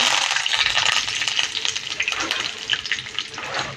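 Mustard seeds, cumin and curry leaves crackle and sizzle in hot oil with a dense, steady frying hiss and scattered pops, close and fairly loud throughout.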